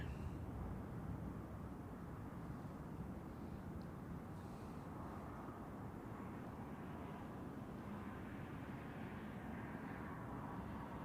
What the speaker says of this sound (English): good takeoff, Swiss 160